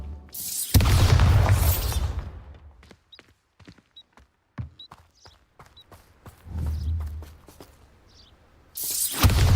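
Bombarda blasting spell cast at pumpkins in Hogwarts Legacy, a loud booming explosion at the start and another near the end, with softer thuds, pops and footsteps scattered between.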